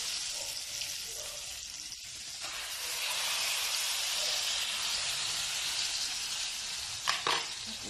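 Eggplant for tortang talong sizzles in hot oil in a pan, a steady broad hiss that swells slightly as it settles, with a faint clatter near the end.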